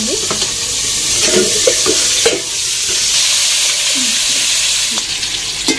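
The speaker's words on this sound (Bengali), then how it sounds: "ঢাকা দিয়েই ভাজলাম, কিন্তু আলুটা আমরা সিদ্ধ করে নিই, ঢাকা দিয়ে ভেজে নেব।" Boiled potatoes fry covered in oil over a clay stove for mutton biryani, giving a steady close sizzle with scattered crackles and pops and occasional stirring scrapes throughout.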